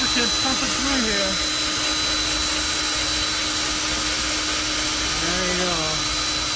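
A CS Unitec magnetic drill bores through titanium with lubricant pumping through the bit, giving a steady, loud motor whine throughout with a voice talking over it.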